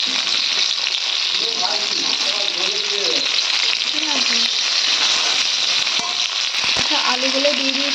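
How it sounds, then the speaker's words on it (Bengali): Vegetables, drumstick pods, potato and ridge gourd with coriander, stir-fried in hot oil in a pan, sizzle steadily and loudly throughout, with occasional stirring scrapes and faint voice murmurs in the background. "সবজিগুলোকে এইভাবে বেশ খানিক্ষণ নাড়াচাড়া করে ভাজবো"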